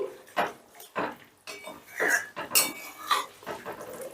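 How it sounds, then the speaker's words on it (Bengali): Sugar is stirred into a fish gravy in a pot: a utensil clatters and scrapes against the pot in irregular close strokes, each one distinct, over quiet background. "চিনিটা ভালো করে আমি গ্রেভির সাথে মিশিয়ে দিচ্ছি"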